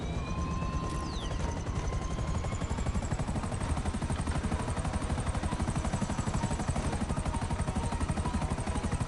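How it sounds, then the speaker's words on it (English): An Akula stealth helicopter in Grand Theft Auto V thrums with a fast, steady rotor chop, loud and continuous, with a whine rising above it. "That's an Akula stealth heli."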